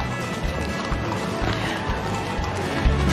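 Horses clop along the street in a Western heritage parade and cattle drive in downtown San Antonio, with steady, fairly close hoofbeats over a murmuring outdoor crowd.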